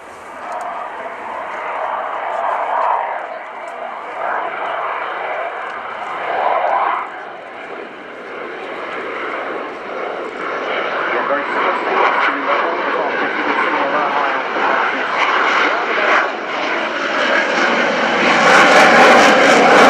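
Saab Gripen fighter jet flying a slow-speed, high angle of attack pass at an airshow, a loud continuous engine roar that swells and builds toward the end, with a commentator talking over it.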